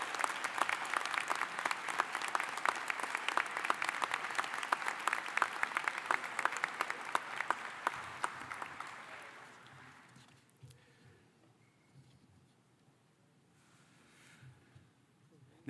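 Commencement graduates applaud their friends and family in a large hall, a dense, sustained wash of clapping for about ten seconds that then fades away to faint room noise.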